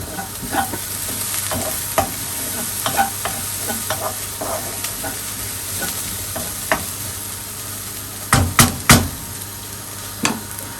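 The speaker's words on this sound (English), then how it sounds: "our onions on this side are getting nice and softened." Onions softening in a hot pan hiss with a steady close sizzle, broken by repeated scraping stirs and a few louder clacks of the utensil against the pan.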